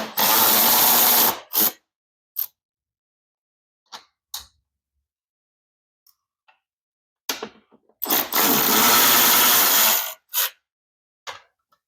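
A power drill backs T27 screws out of the inner fairing of a 2024 Harley-Davidson Road Glide. Two loud, close whirring bursts of about two seconds each are separated by quiet gaps holding brief clicks and taps.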